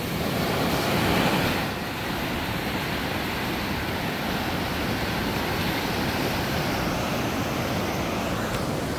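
Ocean waves wash steadily onto a shore, a broad continuous roar of surf with a louder swell near the start, heard alone without voices.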